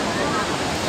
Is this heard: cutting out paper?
no